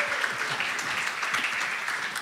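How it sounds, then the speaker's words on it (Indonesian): Steady applause from an audience welcoming two pastors to the stage at a church relationship talk, dense clapping continuing evenly throughout without pause. "Kita sambut, berikan tepuk tangan yang meriah untuk Pastor Alvin dan Pastor Philemon."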